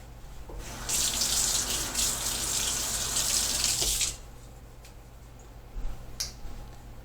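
Running water from a tap pouring over a heated PVC blade to cool it, a loud steady hiss for about three seconds that then stops, leaving quiet room tone with a few small knocks.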